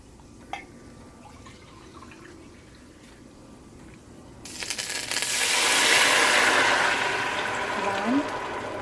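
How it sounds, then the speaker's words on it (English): Water poured into a pot of rice being cooked into sweet rice (zarda), a sudden steady rushing gush that starts midway and continues loudly to the end after a quieter, faintly clinking start. "we're gonna add our water, and very carefully"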